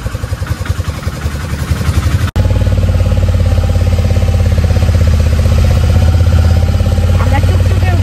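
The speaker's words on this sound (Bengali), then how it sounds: "আমরা টুকটুকে উঠেছি। এই হচ্ছে টুকটুক।" Tuk-tuk engine running steadily through a bumpy ride in Ella, Sri Lanka, a loud, close, rattling mid-pitched drone that steps up sharply after a brief cut and holds at full level, with some talk underneath.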